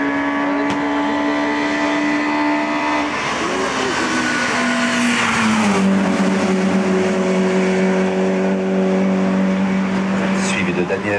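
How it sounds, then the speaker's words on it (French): Alfa Romeo race car, number 305, climbing a hill-climb course, its engine loud and close, revving through rising gear pulls with shifts, under a loudspeaker announcer talking throughout. "Alexandre Alfa Romeo, numéro 305."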